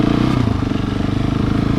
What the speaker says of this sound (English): There's a motorcycle dude.